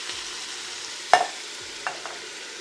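Rotel tomatoes are stirred into brisket chili in a Ninja Foodi, giving a soft steady sizzle with a sharp spoon scrape and a couple of lighter clinks, heard close with no talk.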